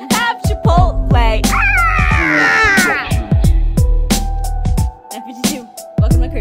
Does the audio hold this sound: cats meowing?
yes